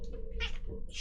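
A cat meows in a few short, close calls with a slightly strained, caterwauling edge, heard alone over low room noise.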